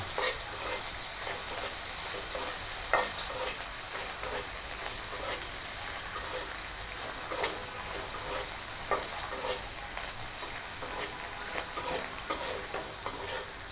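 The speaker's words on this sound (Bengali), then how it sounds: "দেওয়ার পর শুটকিটা একটু ভেজে নিব" Dried fish (shutki) fries in a pan with a steady, close sizzle. Frequent scraping stirs break through the constant crackle, and no one talks.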